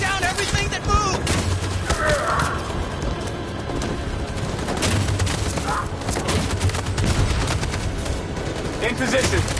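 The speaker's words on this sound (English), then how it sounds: "That machine gun has taken down everything that moves!" Rapid machine gun bursts in the video game Detroit: Become Human, loud and sustained across the whole stretch, with booming impacts and shouted voices mixed into the battle din.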